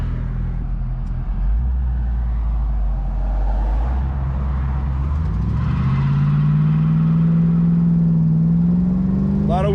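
A 5.0 Foxbody Mustang launches from a drag start, its V8 drone rising steadily in pitch as it accelerates and pulls away, loud and close throughout.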